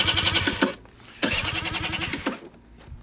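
A Yamaha dirt bike engine is started by touching a wire to the starter cables: two cranking, catching bursts of a small motorcycle engine close up, separated by a brief pause, with the second running on for a couple of seconds before dropping off.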